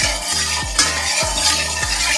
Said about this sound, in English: gonna mix these ingredients together